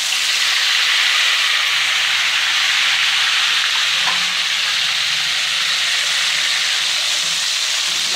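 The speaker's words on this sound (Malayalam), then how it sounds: "ഇതിലേക്ക് നമുക്ക് നമ്മുടെ ഉപ്പ് നീരിൻ്റെയും മഞ്ഞൾ നീരിൻ്റെയും ആ ഒരു ഇത് ഒരു ടീസ്പൂൺ ഒഴിച്ച് കൊടുക്കാം." Salt and turmeric water poured into hot frying oil while cooking an Onam sadya dish gives a steady, loud, continuous sizzle and hiss that lasts throughout, with no talking.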